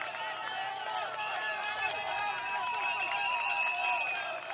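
A large roadside crowd cheers cyclists at a Czech Tour stage finish in Šternberk, a dense, continuous roar of voices and shouts held at an even level for the whole stretch.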